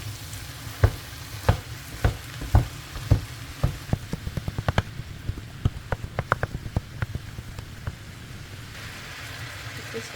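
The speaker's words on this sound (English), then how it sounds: "I've got 1 kilo of ground beef. Just gonna cook this." A kilo of ground beef frying in a pan gives a steady, close sizzle with sharp crackling pops, loud and regular at first, then quicker and softer as the cooking settles.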